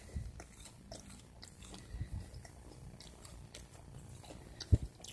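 Crispy breadcrumb-coated fried fish is bitten and chewed up close, giving soft crunches and wet chewing with one sharper bite near the end and no talk.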